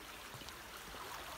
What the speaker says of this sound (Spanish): Miren el arroyo, qué bonito.